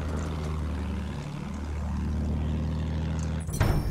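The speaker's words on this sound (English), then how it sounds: "Behind us, plane. Shoot the plane." A propeller warplane drones overhead in the World War I shooter Battlefield 1, a steady engine hum that swells and sweeps past as its pitch bends, ending in a sharp burst of nearby noise.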